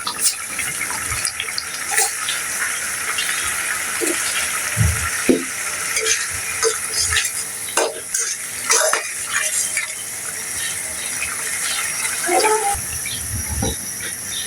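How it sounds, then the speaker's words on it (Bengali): Chicken curry sautéing in a pan with a steady frying sizzle, broken by scraping stirs and clinks of a spoon against the pan, close and fairly loud, with no speech. "ভালো করে কষিয়ে নেব"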